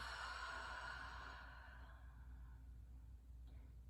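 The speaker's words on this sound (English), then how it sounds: "We'll take a deep inhale through the nose. Exhale out of the mouth." A slow breath exhaled out of the mouth during a gentle yoga flow, a soft airy rush that fades over a few seconds into quiet room tone, faint and close, with no talking.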